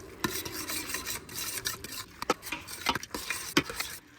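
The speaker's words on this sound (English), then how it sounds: "Now I'm gonna stir it in real good." A spoon scrapes and stirs fruit pectin into apple pie jam in a pot, giving soft rasping strokes with a few sharper clicks against the pot, close and moderately quiet, with no talking.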